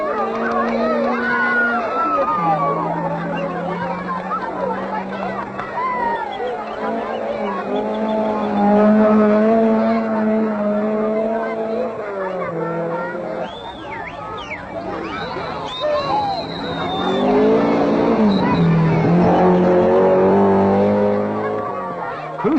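Rally cars race flat out in the Safari Rally, their engines droning loudly with rising and falling revs and an occasional tyre squeal, while a narrator talks over them throughout.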